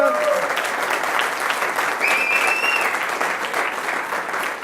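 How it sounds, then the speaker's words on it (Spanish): A church congregation applauding together at a service, dense, steady clapping that holds loud and even throughout, with a few faint whistles above it. "aplaudamos lo más que podamos"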